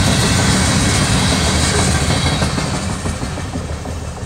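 A train rumbles past nearby with clattering wheels on the rails, loud at first then gradually fading as it moves away.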